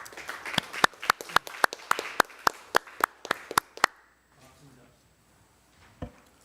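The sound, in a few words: audience applause at a debate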